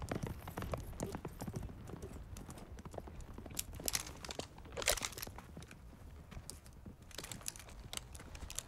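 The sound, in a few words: horses' hooves clip-clopping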